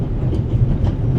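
Steady rumbling of a luxury passenger train rolling on rails, with a low continuous roar and faint rhythmic clatter, heard from inside a compartment in The Raven Remastered video game.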